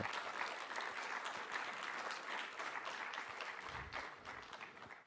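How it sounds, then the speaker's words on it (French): An audience at a DevOps conference talk applauds steadily and continuously, a dense wash of many hands clapping at once that carries on evenly before fading slightly at the end. "Vous pourriez d'ailleurs applaudir tous les organisateurs parce qu'ils le méritent bien"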